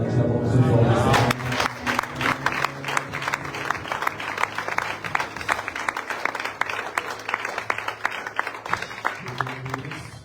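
A church congregation at a French-language service bursts into loud, sustained applause and cheering, with dense rapid clapping and shouts that start strong and carry on for the whole stretch.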